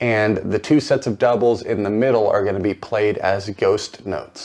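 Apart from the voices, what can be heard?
No distinct noise like a dog, phone or traffic.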